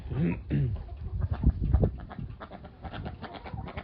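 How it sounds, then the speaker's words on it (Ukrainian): A young farmyard rooster gives a few short, close clucks near the start, followed by scattered softer poultry sounds while a person talks nearby. "Отакий от півник."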